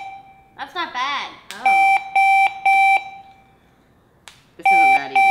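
An alarm clock goes off with bursts of loud, shrill beeping pulses in groups of three, then again after a pause, with a person talking briefly beforehand.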